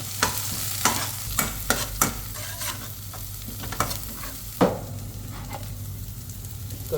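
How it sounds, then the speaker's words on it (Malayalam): Onion, tomato, green chilli and garlic frying in a pan while being stirred, a soft steady sizzle broken by a series of sharp scraping and clinking strokes of the spoon against the pan. "സവാള വരുമ്പോൾ തക്കാളിയും പച്ചമുളകും വെളുത്തുള്ളിയൊക്കെ ഒന്ന് ഇട്ട് കൊടുക്കണം."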